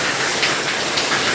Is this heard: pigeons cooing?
no